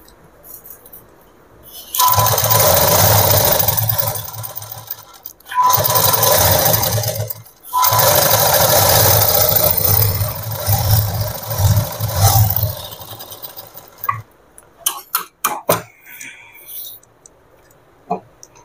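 A sewing machine stitches petticoat fabric in three loud, close bursts of fast whirring, separated by brief pauses, then stops and gives way to scattered clicks and handling clatter.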